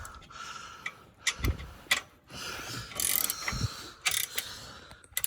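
Spanner ratchet tightening bolts on a new grab rail fitted to a Yamaha YXZ1000R side-by-side, giving a few close, scattered bursts of clicking with short pauses between them.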